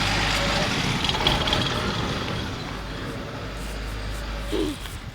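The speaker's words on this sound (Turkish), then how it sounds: "Şimdi otobüs geçiyor." A bus rolls past on a city street, a steady broadband roar of engine and tyres that stays loud and close throughout, with a brief low rumble near the end as it moves on.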